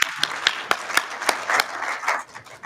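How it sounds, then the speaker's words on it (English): A small conference audience gives sparse, scattered clapping after a paper presentation on longevity at a music technology event, distinct individual claps close by that thin out toward the end. "Isaac, can we have another round of applause for this wonderful longevity paper?"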